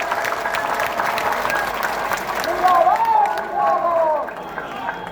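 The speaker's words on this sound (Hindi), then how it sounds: "मैं कहता हूं जोरदार तालियों से हमारे दोनों सीनियर साथी का स्वागत करिए।" Loud, sustained applause from a gathering welcoming two senior colleagues at a teachers' association meeting. Dense clapping mixes with crowd noise and a few raised voices over about five seconds.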